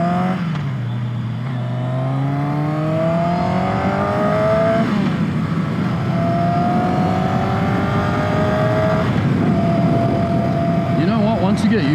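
A Rocket motorcycle engine revs and pulls away as a rider takes it off, the tone rising and falling through several throttle sweeps, steady and fairly close, with people talking nearby.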